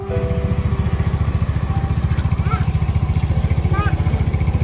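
A motorcycle engine idles steadily with a rapid, even chugging pulse throughout, close by, with brief faint voices in the background.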